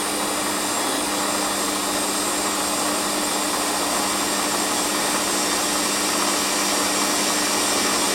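Warco lathe toolpost grinder taking a light cut on metal, a steady high-pitched whirring grind with a constant hum, running continuously and fairly loud with no talk over it.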